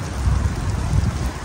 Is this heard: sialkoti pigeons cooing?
no